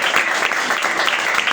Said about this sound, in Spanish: ¿Usted le puede dar un aplauso por ese sacrificio del Señor?